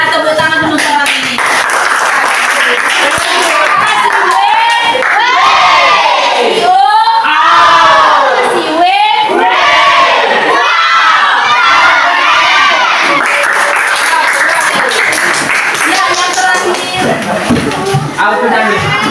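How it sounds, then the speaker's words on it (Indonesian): Group of children in a classroom clapping and shouting together, a loud, continuous burst of excited cheering and applause with voices overlapping throughout. "sudah tepuk tangan teman-teman ini."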